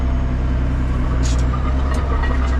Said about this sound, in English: Now we are going to rev to a fair bit and go.